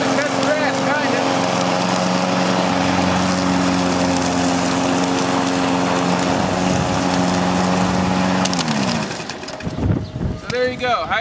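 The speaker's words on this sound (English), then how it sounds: "We even ran a lawnmower with it" A small lawn mower engine runs on ethanol-blend fuel treated for phase separation, droning loud and steady for about nine seconds before cutting out and sputtering to a stop.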